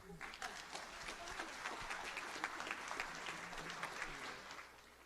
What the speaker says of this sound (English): I know you're going to give a warm round of applause for Kelly Loth.